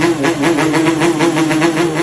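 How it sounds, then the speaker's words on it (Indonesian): Yamaha RX King two-stroke motorcycles with modified exhausts rev together in a rhythmic, pulsing drone, loud and close, at an evening gathering of riders. "Para player menggeber motornya dengan merdu."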